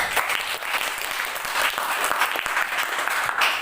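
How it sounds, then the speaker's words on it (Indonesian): Sustained applause from a class, dense steady clapping throughout for a student being recognised in a lesson on monetary policy. "Tepuk tangan untuk Naila"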